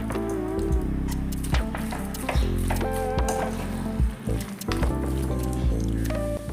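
Chicken kuruma masala being stirred in a pan, with wet squishing and a steady sizzle under repeated scraping strokes, close and continuous.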